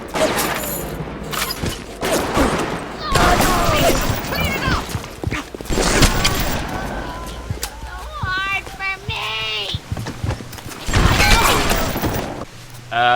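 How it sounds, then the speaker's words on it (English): Machine gun fire in BioShock, bursts of rapid shots mixed with other game effects and clanking, fairly loud, heard alone with no talk. "Machine gun's a much faster weapon. You can shoot a lot more, do a lot more damage faster."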